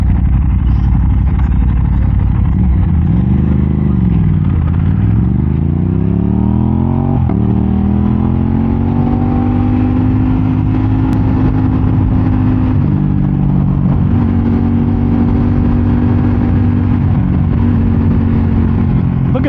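A Lamborghini engine running loud and close, a steady rumbling drone with pitch rising and falling as it revs and settles, continuous throughout.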